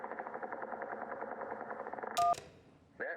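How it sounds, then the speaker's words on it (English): Motorboat propeller failing, a video game sound effect from Kentucky Route Zero: a steady rapid mechanical chugging that breaks into a sharp sputtering burst, then cuts out before a short rising whine at the end. "That was a motorboat's propeller failing."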